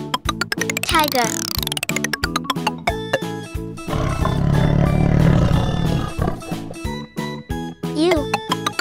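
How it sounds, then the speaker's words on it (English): A tiger roars in a children's alphabet learning song, one long rumbling growl that swells in the middle of bouncy electronic music. "Tiger."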